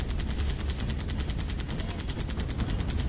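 A mounted turret in the video game Halo CE fires a rapid, continuous stream of heavy shots, evenly paced and dense, loud throughout with no voices over it.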